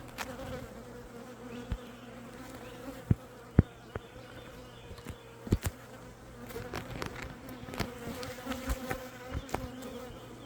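Honeybees buzz and fly around an open hive, a faint continuous hum with individual bees zipping close past in short louder passes, no speech.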